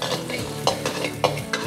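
Garlic stir-fries in a little oil in a wok for rad na noodles, a short burst of sizzling with quick rhythmic spatula scrapes and knocks.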